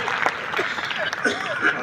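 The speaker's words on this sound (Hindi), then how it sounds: "एक बार जोरदार तालियां बजा दीजिएगा" Audience applause breaks out at a Hindi poetry gathering (kavi sammelan), a steady broadband patter of many hands filling the hall while a voice keeps talking over it.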